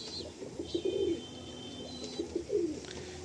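A male domestic pigeon, a quality breeding cock, gives low bubbling coos in two clear bursts close by, with faint high chirps and a light background hum.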